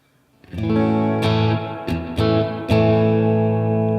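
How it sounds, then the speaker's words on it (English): Distorted electric guitar chords from a PRS Silver Sky ring out with a crunchy amp tone, struck several times and left to sustain, loud and full. "I'm going to throw a crunch on the amp for that setting."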